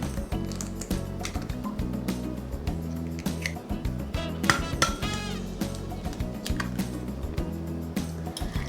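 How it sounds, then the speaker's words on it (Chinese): Eggs, two of them, beaten in a bowl that already holds sliced loofah, a busy scatter of light clinks and taps running steadily under louder continuous background music. "把鸡蛋打散"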